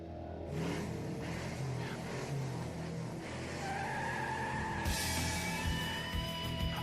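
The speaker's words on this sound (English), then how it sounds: "Drivers, start your engines." Race cars at an auto racing event roar with engines revving and tires squealing, a loud continuous blend that rises in pitch as the cars accelerate.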